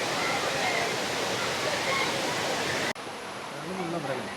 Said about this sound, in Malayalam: ഈ ഭാഗത്തൂടെയാണ് വെള്ളം ഒലിച്ച് വന്ന് ഇവിടെ വന്നിട്ടാണ് വീഴുന്നത്.